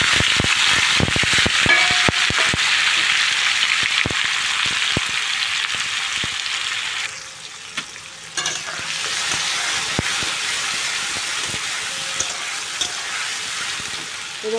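Masala, onion, tomato, ginger paste and garlic paste fry together in a pan for an egg curry, giving a loud, constant sizzle with crackles and stirring scrapes throughout and a brief softer dip partway.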